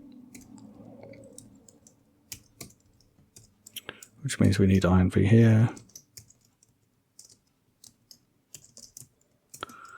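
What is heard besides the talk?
typing on a computer keyboard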